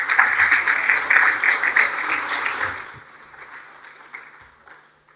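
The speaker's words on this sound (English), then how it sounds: "we receive our guest with a big applause" An audience claps warmly for a guest lecturer, dense applause that holds strong for about three seconds and then thins out and fades away.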